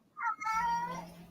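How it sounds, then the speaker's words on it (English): A house cat meows twice in quick succession, a short rising call followed by a longer drawn-out meow, fairly close and clear with no talking over it. "Hello, I hear a cat."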